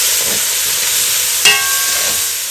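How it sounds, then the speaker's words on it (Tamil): Onions and green chillies fry in hot oil for a Jaffna-style mutton roll, giving a steady loud sizzle and hiss with a brief sharp clink partway through. "ஒரு நாலஞ்சு பச்சை மிளகாய் நல்லா பொரிய விடுவோம்"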